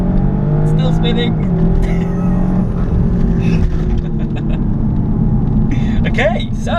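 A Golf R or Cupra 290 hot hatch accelerates hard with its wheels spinning, a loud, close engine drone and tyre noise heard from inside the car, with people talking over it.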